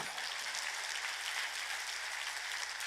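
A church congregation at a revival sermon service applauds in a steady, dense wash of clapping that fills the whole stretch without pause, with no voices standing out.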